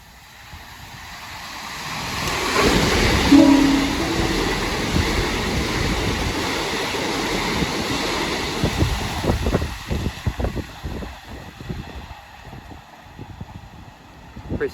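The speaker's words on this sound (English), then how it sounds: "passing through now is the Southeastern 377 from Charing Cross to Maidstone East" A Southeastern Class 377 electric train, a pair of units, passes through East Malling station with a broad rising rush and rumble that holds steady and then breaks into rhythmic wheel clatter as it moves away.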